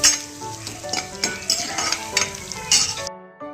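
Curry leaves roasting with ginger in a hot pan, a dense crackling sizzle with stirring scrapes and utensil clinks against the pan, close and continuous before cutting off abruptly.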